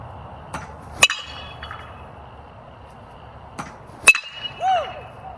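Two sharp metallic pings, a few seconds apart, as a Rawlings Velo ACP BBCOR baseball bat strikes a ball, each ringing briefly. Faint background noise lies between the hits, and a short voiced sound follows near the end.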